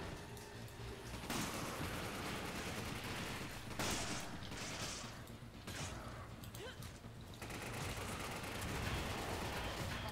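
Rapid bursts of gunfire from the video game Resident Evil 5 ring out loud and dense across the scene, with brief lulls between volleys and a voice talking faintly beneath.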